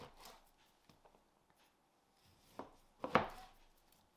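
A knife cuts through an eye of round beef roast, portioning it into half-inch breakfast steaks; a few soft, close cuts build to a firmer slicing thud near the end, with quiet pauses between.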